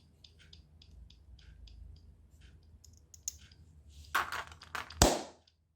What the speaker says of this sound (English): It's clicking now.